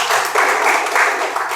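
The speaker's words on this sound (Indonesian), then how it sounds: "tepuk tangan untuk Endeng" Applause for a student named Endeng during a classroom teaching session, a short burst of steady clapping from a small group, close and fairly loud, lasting under two seconds.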